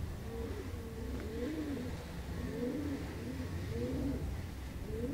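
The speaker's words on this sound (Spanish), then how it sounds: "Eso es una paloma hembra, mira." Female rock pigeon cooing at a loft, soft repeated low rolling coos in a steady rhythm over constant background hum.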